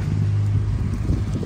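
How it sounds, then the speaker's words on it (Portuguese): Strong cyclone wind at the seafront in Balneário Camboriú, Santa Catarina, a loud, steady, low buffeting roar pounding the microphone with no talk. "A ventania que tá dando aqui."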